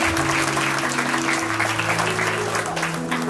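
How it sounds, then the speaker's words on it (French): Steady audience applause fills the clip from start to end, with a faint musical tone humming underneath. "Applaudissons pour les crevettes de la salle."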